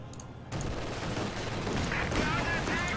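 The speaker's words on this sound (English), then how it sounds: "Mortar firing." Dense game battle noise from Company of Heroes 2, with mortar firing amid a steady stream of rumbling gunfire and blasts. A sharp onset comes after half a second, then continuous booming under faint talk.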